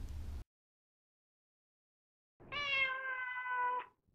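A domestic cat gives one clear, drawn-out meow at close range. It follows a brief burst of noise and about two seconds of silence.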